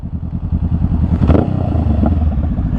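A motorcycle with a Vance & Hines exhaust rumbles loudly up close, its deep, uneven idle chugging and popping with a brief sharper rise in revs partway through.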